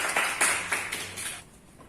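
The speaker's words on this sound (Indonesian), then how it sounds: "Ya, tepuk tangan untuk Mbak Devi." A classroom audience applauds a student answer, a brief patter of many hands clapping together that fades out after about a second and a half.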